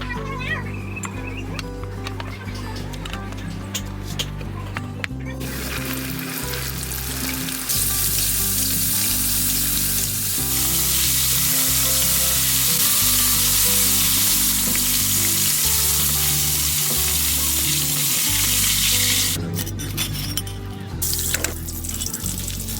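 Fermented catfish (pla som) drops into hot oil for deep frying, and a loud, dense hiss rises abruptly and roars steadily for about ten seconds before cutting off, over a low tonal background.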